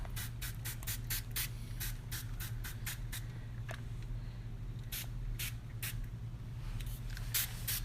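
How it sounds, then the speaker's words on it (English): Repeated short bursts of a spray bottle of kitchen cleaner, quick squirts in uneven clusters, close and fairly loud over a low steady hum. "So I'm gonna spray some more"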